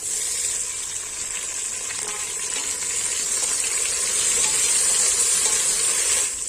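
Tomatoes cooking into frying onions for mutton biryani, a steady broadband sizzle of hot oil with a faint rise in intensity toward the end, close and continuous with no talking.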